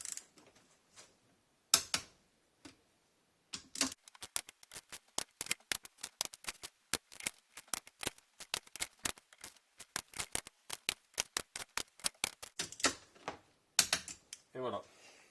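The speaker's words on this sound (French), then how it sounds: "L'ensemble des vis se serre à 27 Nm." Screws on a Honda gearbox casing are tightened to 27 Nm with a ratchet, heard as rapid, crisp clicking bursts repeating close by, separated by short pauses, with a brief voice near the end.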